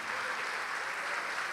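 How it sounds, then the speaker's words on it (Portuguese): A church congregation applauding steadily throughout, a dense even wash of clapping at moderate distance with no voices standing out. "vamos aplaudir mais"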